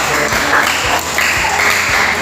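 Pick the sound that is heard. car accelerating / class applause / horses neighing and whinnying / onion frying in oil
class applause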